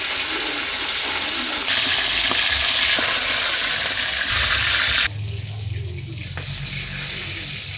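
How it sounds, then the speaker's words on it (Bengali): Hilsa fish frying lightly in hot oil in a pan, a loud, dense sizzle and spitting hiss that shifts in intensity, with a lid clatter partway through. "মাছটা আমি হালকা করে ভেজে নিচ্ছি"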